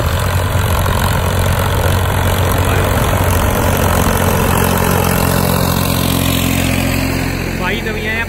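A Farmtrac 60 tractor pulling a 22-disc harrow through a field runs loud and close, its engine holding a steady, heavy drone throughout.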